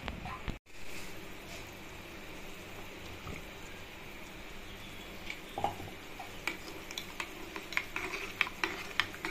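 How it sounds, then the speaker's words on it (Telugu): Ragi flour being stirred into cold water in a bowl gives soft, faint swishing and scraping with occasional light clinks of the spoon, quiet and continuous over a low background hum. "ఇలాగ రాగి పిండి నీళ్ళల్లో వేసి చల్ల నీళ్ళల్లో ఇలా కలుపుకోవాలి."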